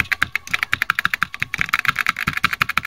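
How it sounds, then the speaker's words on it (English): Rapid, steady typing on a vintage Apple II computer keyboard, with crisp, clacky keystrokes in a fast, even rhythm up close and no talking. "listen to the sound of this Apple II keyboard"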